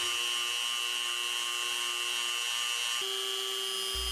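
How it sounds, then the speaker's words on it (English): A Dremel fitted with an abrasive cutoff disc grinds a high-speed steel gear cutter, the tool mounted on a machine quill; a steady high-pitched whine runs throughout, shifting slightly in pitch near the end, close and continuous. "I've mounted my Dremel on the quill to control the grind, which is done using an abrasive cutoff disc."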